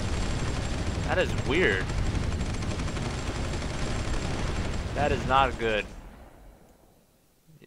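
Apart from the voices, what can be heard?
explosions in the video game Supreme Ruler 2010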